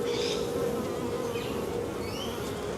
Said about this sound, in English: This bee's getting pretty aggressive.